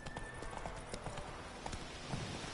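Roach, Geralt's horse in The Witcher, gallops with a quick, steady clip-clop of hooves under a constant game ambience.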